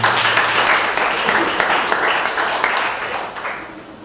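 Church congregation clapping at a Sunday service, a dense steady wash of applause filling the whole stretch and easing off slightly toward the end.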